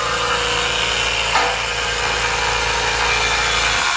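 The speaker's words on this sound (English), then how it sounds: "Getting them drilled out right now." A power drill bores steadily through Honda/Acura suspension arms in a busy shop, a continuous loud whine with a brief dip midway before resuming.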